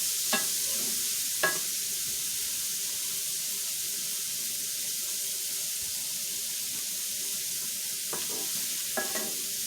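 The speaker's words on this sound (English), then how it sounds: "You do want it to sizzle some" Steady hissing sizzle of food frying in a pan, with a few brief clinks of a utensil stirring at moments, no talking.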